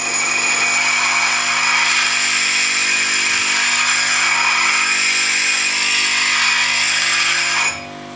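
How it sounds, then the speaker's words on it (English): A brazed lathe tool ground at a 15-degree angle against a grinding wheel, a loud steady high whine with a constant hum that runs unbroken before dropping off at the end. "with the 15-degree angle on the tool, I can get my fingers out of the way of the wheel and still grind the tool"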